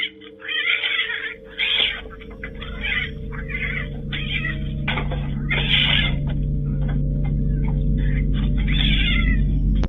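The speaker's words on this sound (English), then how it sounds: "It launches itself at the intruder with pure territorial rage, claws out, hissing like a demon." A house cat in a territorial attack lets out loud, repeated yowls and wailing cries in bursts, with harsh, hissy snarling between them and a steady low rumble underneath.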